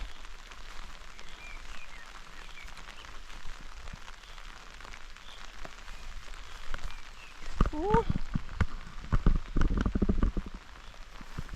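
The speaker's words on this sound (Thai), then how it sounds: "ฝนมาหนักแล้วค่ะทุกคนดูสิ" Steady heavy rain hisses across a surface on a grassy mountaintop throughout, with some thumps and a louder burst of movement and voices near the end.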